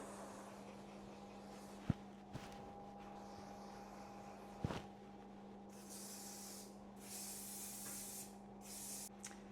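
A hair spray can hisses out in a few short bursts near the end, following a couple of faint clicks over a steady low hum.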